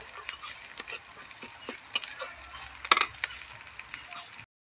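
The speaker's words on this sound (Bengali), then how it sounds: "লঙ্কা গুঁড়ো দিয়ে ভাজা হয়ে গেছে" Spices fry with chili powder in a pan for Bengali-style egg curry, giving a low sizzle broken by scattered stirring scrapes and clicks, with one sharper burst partway through.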